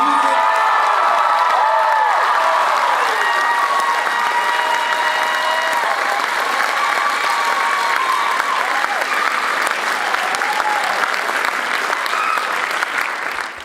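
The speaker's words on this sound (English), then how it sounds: "I need all of you to dig deep, to give a loud applause" Audience at a Whitworth University diversity monologues event breaks into loud, sustained applause with cheering and scattered whoops, a dense wall of clapping that holds steady throughout.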